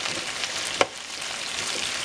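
Onions and green peppers cook in a pan with Cajun seasoning, a close steady sizzle broken by one sharp stir or scrape near the middle.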